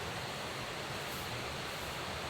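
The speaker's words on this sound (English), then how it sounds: "you got that nice like ambient white noise of the stream" A stream beside a rainy campsite with a campfire produces a steady, dense rush of white-noise-like water that stays even and unbroken throughout, with no voices.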